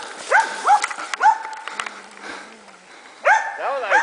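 A dog barks in short repeated bursts, loud and close, with a pause in the middle before another run of barks.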